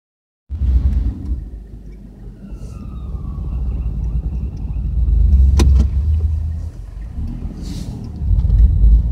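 A van drives along an icy road during a polar vortex, producing a loud, continuous low engine and tyre rumble with wind noise that swells and eases throughout.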